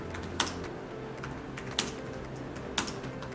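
Quiet typing on an XPS laptop keyboard, soft key taps with a few sharper clicks standing out at irregular intervals over faint background hum.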